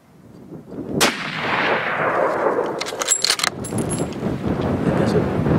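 A single loud rifle shot cracks out near the start during an aoudad hunt in rough backcountry, followed by a long rolling echo, with people murmuring quietly.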